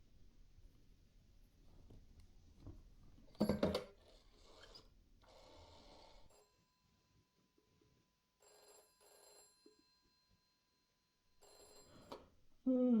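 A telephone ringing in the video game This is the Police, several short bursts of ringing separated by quiet gaps, fairly faint, with soft background noise and a louder sound at the very end.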